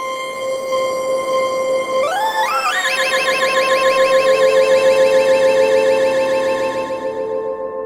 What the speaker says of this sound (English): So this is set to delay on this particular pattern, so we can change the speed and amount of delay here.